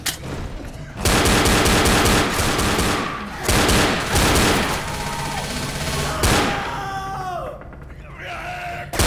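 Gunfire in the zombie shooter Left 4 Dead: loud, dense bursts of rapid shots with zombie screams and groans in between, and someone talking under part of it.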